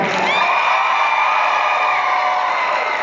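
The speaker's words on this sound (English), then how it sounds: "Round of applause if you saw Shazam in theaters already" Podcast live audience cheering loudly, a dense roar of whoops and yells from the crowd that stays strong throughout.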